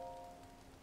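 Soft rainfall in the video game Zelda: Tears of the Kingdom, a faint, even hiss with a brief tonal chime at the start and no talking.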